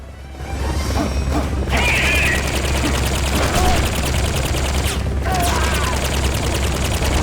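Dense, loud gunfire and crashing impacts in the video game Metal Gear Solid: Peace Walker, a continuous rattling barrage with heavy low rumble and brief pauses, no clear voices over it.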